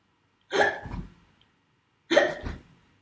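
A voice imitates a hiccup twice during a Butoh movement class, each a sharp voiced gulp followed by a softer low tail, separated by a pause of about a second and a half, close and clear.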